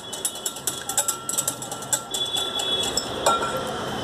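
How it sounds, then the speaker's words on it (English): Curds are whisked to make buttermilk, giving a fast run of light rhythmic clinks and scrapes against the bowl, close and moderately loud, with no talk. "Here I will take the curds and whisk it."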